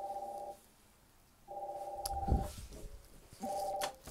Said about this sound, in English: Bloody phone never stops ringing.